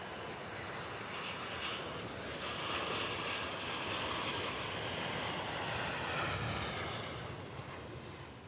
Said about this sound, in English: There you have it, folks. Very beautiful landing.